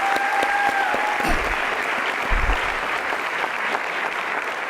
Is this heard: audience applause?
yes